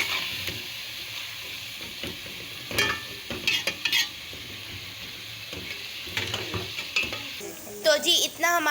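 Minced meat (keema) fries in a pan with a steady sizzle, while a spoon scrapes and stirs in short, irregular bursts, close up and with no talking.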